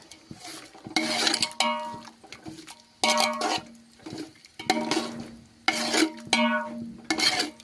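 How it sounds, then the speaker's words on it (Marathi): Spoon stirring chili powder through sweet lemon pickle in a pot, giving repeated scraping, clinking strokes in bursts with brief pauses between, close and moderately loud, with no talking. "आता यामध्ये बघा मिरची पावडर टाकली आहे आणि चांगलं मिक्स करून घ्यायचं"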